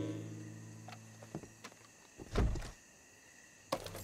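A wooden door kicked in during a Red Dead Redemption 2 game scene: a few scattered knocks, then a heavy thudding crash in the middle, and a sharp knock near the end, over faint ambient background.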